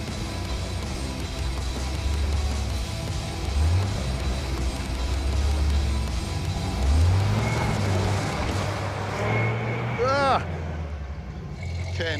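Someone's red 4x4 K20 truck crawls over rough terrain, its engine rumbling low and rising in short revs, with a few high squeaks near the end as people talk nearby.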